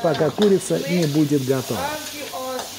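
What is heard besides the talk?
chicken frying in boiling oil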